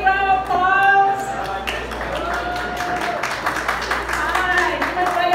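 An audience at a media awards gala gives a steady round of applause. It is loud and sustained and mixes with crowd noise and faint voices.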